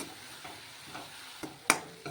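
Leafy greens frying in oil with turmeric and salt, giving a soft sizzle with gentle stirring scrapes and one sharp clatter near the end, close up and quiet.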